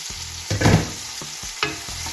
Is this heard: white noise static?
no